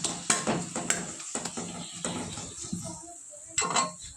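Fried onion, ginger and garlic stirred in a pan for khichdi, a spatula clanking and scraping against metal in quick irregular strokes over a light sizzle, close, with a short pause before one final scrape.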